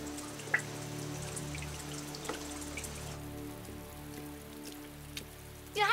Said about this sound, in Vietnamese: chị Vũ Hàm, trời mưa lớn như vậy sao em còn tới đây?